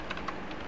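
A few quick, soft taps on a computer keyboard, close and faint, spaced unevenly over a brief moment.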